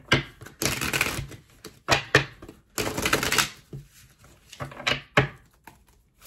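Tarot cards are shuffled by hand in several close bursts of riffling and flicking, with short pauses between each burst.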